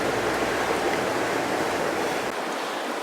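The Dragaca river rushes past nearby, a loud, steady broadband wash of flowing water that stays constant throughout, with no talk over it.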